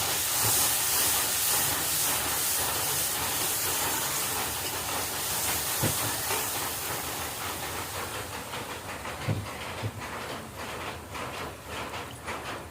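Ground masala spices sizzle loudly in a hot pan just after panch phoron is added. A dense, close hiss holds steady and eases slightly toward the end, dotted with a few small pops and clicks.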